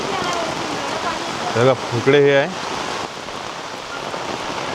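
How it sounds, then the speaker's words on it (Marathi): Heavy monsoon rain pours steadily over rice paddy fields in a Konkan village, a dense continuous wash of drops while someone briefly speaks over it. "पाऊसच एवढा लागतोय."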